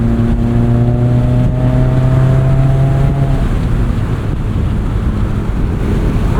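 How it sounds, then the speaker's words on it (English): Mazda MX-5 Miata with the top down at about 45 to 50 mph, loud steady wind rush and buffeting roaring over the cabin, with a droning engine tone that fades partway through, no talking. "Very little wind buffeting at 45 to 50 miles an hour"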